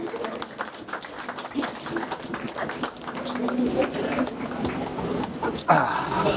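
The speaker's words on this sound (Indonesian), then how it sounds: "Kasih aplaus dulu teman-teman semua." An audience at a book discussion welcoming the author, Yoga Fitrana Cahyadi, with scattered hand clapping that builds into moderate applause in a room, with some voices murmuring.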